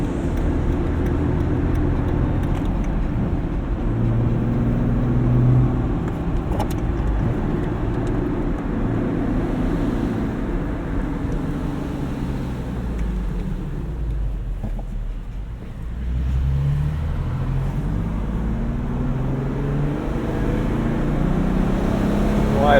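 A 2017 Jeep Wrangler Unlimited with a manual gearbox pulls wide open in second gear, its engine a steady low drone with road and cabin noise held loud and near throughout.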